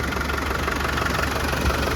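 A steady diesel engine of a 1996 Land Rover Defender 110 300Tdi idles with an even, low rumble and no variation in pace, running smoothly throughout without any voices.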